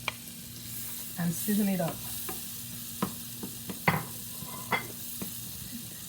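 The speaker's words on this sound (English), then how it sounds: "So now I'm going to toss that into that melted butter" Diced onion and garlic hit melted butter in a pan, giving a burst of sizzling and stirring followed by scattered crackles and pops, with a few quiet words spoken.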